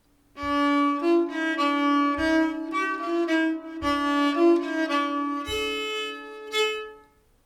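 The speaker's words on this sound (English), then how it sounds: "The Swedish Nyckelharpa is a beautifully sounding and generous instrument" A bowed Swedish nyckelharpa plays a flowing Scandinavian folk melody over a steady low drone, its notes ringing with shimmering sympathetic resonance, close and clear with no talking.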